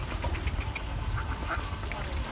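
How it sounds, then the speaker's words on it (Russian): Ducks and swans being fed at a waterside in Bulgaria, with soft quacking and bird calls scattered over steady low rumbling background noise, no talk heard. "Вот так мы кормим лебедей и всяких уточек"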